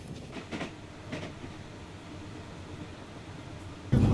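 Steady rolling rumble of a train carriage with faint rhythmic clacks, fairly quiet and continuous, ending in a sudden louder thump.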